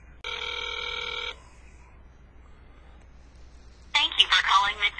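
A telephone line rings once in a steady electronic burst, then falls quiet before a recorded voice answers on a call to McDonald's.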